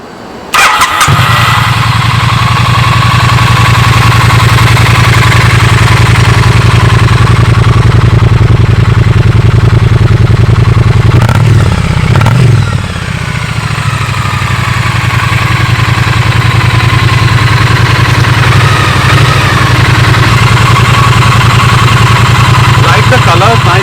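A Triumph Bonneville T100 motorcycle engine runs at a steady idle throughout, loud and close, with a brief dip in the middle while people talk over it.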